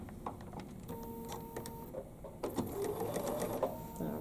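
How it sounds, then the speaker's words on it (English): Domestic sewing machine stitching quilt pieces together, a steady close mechanical whir that runs in bursts and then speeds up, heard alone without talk. "So we're going to sew that one."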